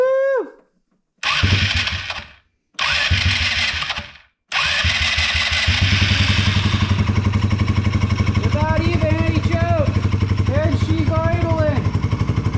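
A Polaris RZR 170's small engine with a louder aftermarket exhaust sputters through a few cranking attempts on choke, then catches and runs with a loud, rapid putter, revving unevenly as voices speak over it.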